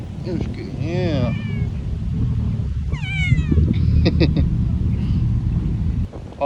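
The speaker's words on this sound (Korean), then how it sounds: "저기 다른 고양이한테 가가지고 얘기를 하고 있네" A street cat on a humid walk in Manila gives two or three clear, drawn-out meows over a steady low rumble of outdoor and traffic noise, close and fairly loud.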